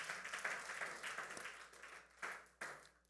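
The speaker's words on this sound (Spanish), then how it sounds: "¿Cuánto le dan un aplauso al Señor por esto?" A church congregation applauds during a Spanish-language service, a faint, distant wash of clapping with a few sharper claps standing out, fairly steady over a few seconds.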